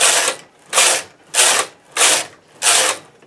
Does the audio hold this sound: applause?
no